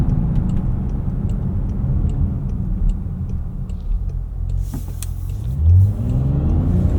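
A 2024 Range Rover Velar P400 Dynamic SE with a nearly 400-horsepower engine accelerates hard, a steady loud engine roar and road rumble from inside the cabin that rises in pitch toward the end.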